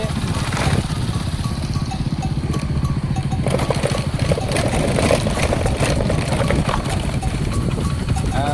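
A motorcycle riding along a road with a passenger on the back: a steady, loud engine drone with wind rumble, continuous throughout, close to the rider.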